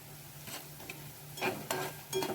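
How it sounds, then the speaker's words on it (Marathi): Chopped onion is sautéed in a pan until just pink: a low, faint sizzle broken by a few scraping spatula strokes spaced across the moment. "कांदा छान परतून घ्यायचा आहे, खूप लाल करायचा नाहीये, थोडासा गुलाबी रंगावर परतायचा आहे।"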